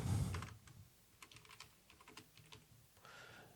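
Someone types on a computer keyboard, with faint quick keystrokes pattering unevenly after a brief louder bump at the start, close and alone without talk.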